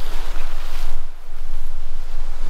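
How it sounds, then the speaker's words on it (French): Steady wind buffeting a microphone on a misty, chilly summer morning hike in Lozère's Gévaudan countryside, a continuous low roar with a brief dip midway, no voices. "Toujours un petit peu de vent."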